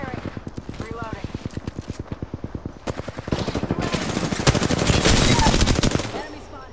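Automatic weapon fire in an Apex Legends match, first in rapid steady bursts, then a denser, louder stretch of shots layered with impacts and game effects, with a voice faintly present.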